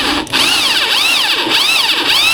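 A loud power drill whines continuously, its pitch sweeping up and down in repeating waves, close to the microphone, while drilling repurposed materials for a mooring block and buoy.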